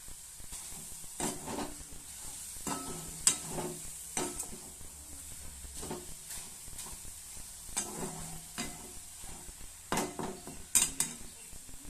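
Tamarind cooking in a pan for an instant tomato pickle gives a steady soft sizzle, broken by repeated sharp clinks and scrapes of stirring against the pan, close up with no talking.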